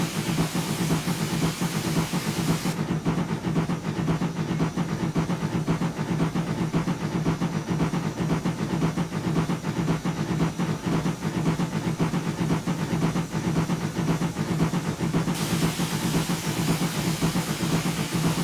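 LNWR G2 steam goods engine driving in a train simulator, a loud continuous chuffing and mechanical rumble with rapid rhythmic beats, steady throughout with no talk.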